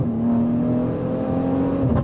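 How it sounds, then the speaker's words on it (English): A 2017 Maserati Levante S downshifts at about 50 mph on a dry road, its engine note rising and holding in a steady, loud drone heard from inside the car. "If I go ahead and downshift here, going about 50 miles an hour, the road's dry."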